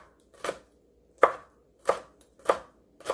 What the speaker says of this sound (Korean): 고추 장아찌도 송송송송 썰어주세요.